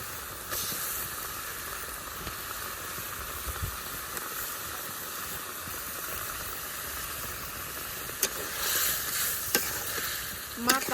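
Gajar fish pieces frying in a hot pan with a steady, dense sizzle and hiss, stirred now and then with a few scraping clicks and knocks near the end.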